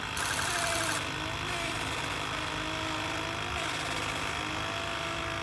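An old truck engine runs roughly up close with a fault, an uneven knocking and rattling rumble that stays steady and fairly loud throughout.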